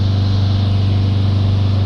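Iveco Daily 2.3 van engine held at a steady 3000 RPM during a diesel particulate filter test, a constant loud droning hum with a strong low tone and no speech.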